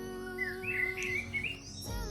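A pet chicken perched on a person's arm gives a run of soft, high chirps and peeps, fairly close and steady, with a brief louder squawk near the end.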